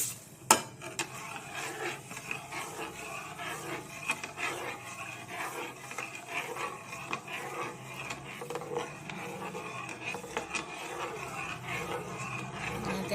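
A spoon stirs milk with milk powder and sugar in a pot while making milk ice cream, giving a continuous close scraping and rubbing sound with a sharp knock at the start.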